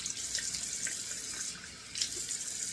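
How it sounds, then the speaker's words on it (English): Cold water running from a bathroom sink tap, a steady hiss of flowing water that dips briefly near the middle before surging back, heard up close with no talking. "Turning on the cold water out of the tap."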